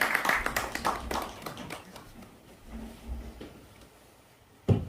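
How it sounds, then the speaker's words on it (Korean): A short round of clapping welcoming a pastor lecturing at a church talk, with crisp claps for about a second that quickly dwindle to sparse, faint ones, then a single sharp thump. "박수로 한번 맞이하겠습니다."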